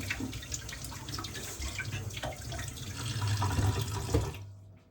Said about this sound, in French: Un peu d'eau tiède sur mes doigts.